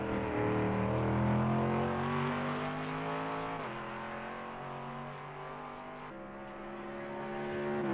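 An AMG GT3 race car in a racing video game accelerates flat out, its engine note climbing steadily through the gears with brief shift dips, loud and continuous with no talk over it.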